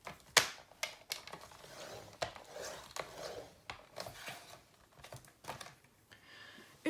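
Scrapbooking paper being folded and creased nearby for a mini pocket album, with sharp crinkles and pressing rubs in an irregular rhythm, separated by short pauses.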